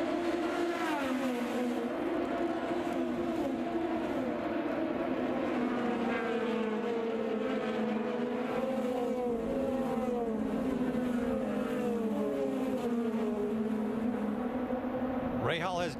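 IndyCar race cars at the Detroit street race pull through a restart, a continuous loud engine drone with rising and falling pitches as several cars pass, under a commentator's voice.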